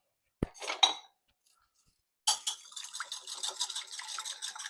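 A fork clinks in a quick, steady rhythm against a bowl while beating one egg for cornbread batter. A couple of brief taps come first, then a short pause, then continuous rapid whisking close by with no talking.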